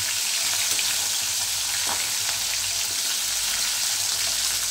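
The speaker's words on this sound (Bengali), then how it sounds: "মুড়োর কালিয়াতে একটু কড়া করে ভাজবি," Fish heads frying until crisp in oil for Bengali muro kalia, continuous close bright sizzle with a few spatula scrapes and pops, no talking.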